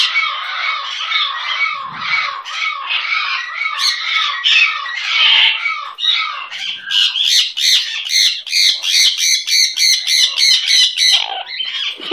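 A pet bird squawks and chirps close up, starting with harsh squawk bursts and shifting into a fast, regular series of sharp chirps that runs for several seconds with no talk.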